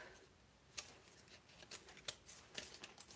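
Backing layer peeled off a sheet in short crackling, tearing bursts, faint and close, separated by brief pauses.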